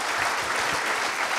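Dense, steady applause from an audience at a company jubilee celebration for a flour mill, filling the short moment evenly with no speech over it.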